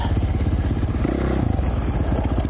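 A 2017 KTM 450 XC-F four-stroke dirt bike engine revs hard on a trail, a loud close throbbing exhaust that swells into a higher scream and falls back, with no voices.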